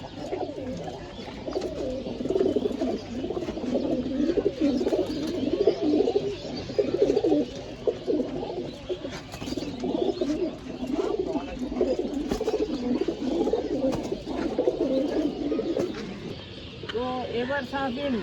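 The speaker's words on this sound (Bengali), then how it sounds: "কবুতরগুলো সবগুলো এক ঝলক দেখাই।" Many pigeons coo continuously in a crowded pigeon loft, soft overlapping throaty calls close by, with occasional chirps and people talking over them.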